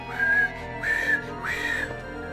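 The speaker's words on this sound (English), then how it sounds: "Like the whistle sound effect." A whistle sound effect in the game Vagrant Story plays three times, each a clear, rising then steady whistled tone in an even rhythm over quiet background.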